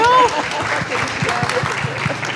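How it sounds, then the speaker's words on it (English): A conference audience in Toronto breaks into applause, a steady patter of many hands clapping at moderate distance, with a brief voice at the start before the clapping continues alone. "We were supposed to hold the applause."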